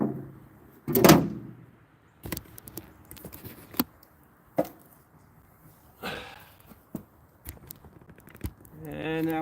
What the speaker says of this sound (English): And this door closes first.